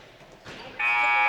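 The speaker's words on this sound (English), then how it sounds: "And there's the buzzer." Loud, steady basketball end-of-game buzzer blaring in a high school gym, kicking in sharply after a moment of crowd noise and holding on to the end.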